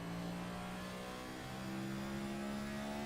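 A race car engine at a Memorial Weekend track event drones at high revs under hard throttle, a steady loud mechanical hum with no voices.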